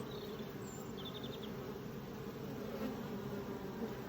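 Honeybees flying at a hive entrance during the spring nectar flow, a continuous soft buzzing hum of many wings close by with faint higher chirps above it, and no voices.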